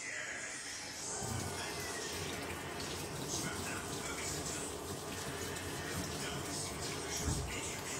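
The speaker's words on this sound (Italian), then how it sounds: "Pian piano aggiungiamo altra acqua." Water pours steadily into a pot of minestrone on a high flame for several seconds, a continuous close rushing splash with no voices over it.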